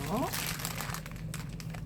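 Plastic wrap crinkles and rustles close up while a kokedama moss ball is being made, with a speaking voice over the handling noise.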